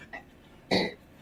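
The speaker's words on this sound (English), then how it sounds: "I'm over here coughing." A person coughs: a faint catch of breath, then one sharp, close, loud cough that fades quickly into quiet.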